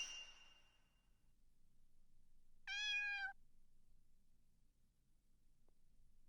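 A cat meows once in a video game, a short clear mid-pitched call that rises and falls against near silence, with a faint sound before it and nothing after.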